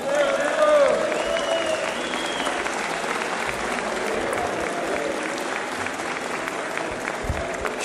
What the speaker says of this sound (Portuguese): uma grande salva de palmas para o nosso presidente